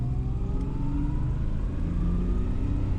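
A Jaguar XJ12 Daimler's V12 engine revs up under acceleration. Its pitch climbs smoothly and steadily over three seconds, close and fairly loud, with no voices.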